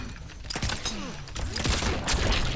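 Rapid gunfire bursts from RoboCop's weapon in Mortal Kombat 11, sounding as dense crackling shots mixed with game impact effects and music, loud and continuous across the short stretch.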